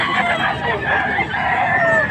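Bull stag gamecock crowing at a busy Sunday market in Pampanga, a loud, near drawn-out crow lasting about two seconds over a background of crowd chatter.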